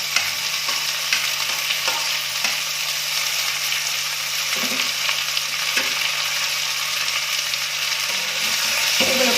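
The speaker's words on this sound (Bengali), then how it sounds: "এগুলোকে এখন একটু কষিয়ে নিতে হবে।" Chopped green chillies and tomatoes sautéing in a pan for a village-style periwinkle snail dish, a steady close sizzle broken by repeated scraping stirs, with no talk.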